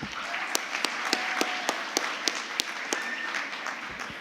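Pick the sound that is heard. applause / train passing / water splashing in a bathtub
applause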